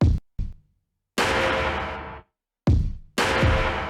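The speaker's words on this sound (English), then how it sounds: "And then I also layered some drums on top of it." Layered drum samples play on their own, with punchy close hits alternating with long, sustained crashy bursts that ring and fade, in a sparse stop-start pattern.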